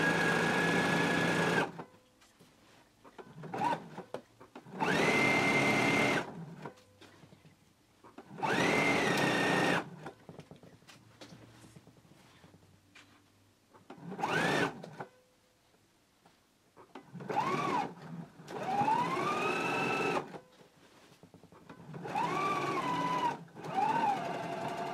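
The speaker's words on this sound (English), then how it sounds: "So now we can go to the sewing machine and we can stitch our center seam all the way to this previous stitching" Sewing machine stitching a center seam on a Simplicity 8889 garment, running in several separate bursts of a few seconds each, with the motor pitch rising and falling, close by and without talk.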